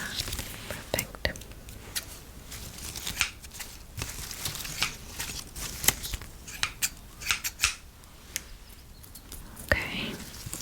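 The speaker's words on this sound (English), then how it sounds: "I'm just gonna snip, snip, snip" Scissors snip repeatedly in short, crisp clusters at close range during a whispered ASMR garden-tending roleplay, with soft whispering between and under the cuts.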